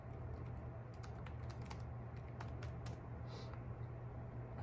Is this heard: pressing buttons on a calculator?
yes